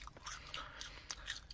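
Crispy Taco Bell breakfast potatoes are bitten and chewed close to the mic, a quiet run of crisp crunches in a steady rhythm, with no talking.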